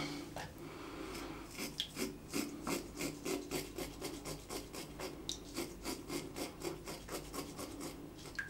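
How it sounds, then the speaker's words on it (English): Swiss Shave Excalibur razor cutting through stubble during a shave: close, steady rasping strokes in a quick, even rhythm with no talking. "You can still easy hear it cutting."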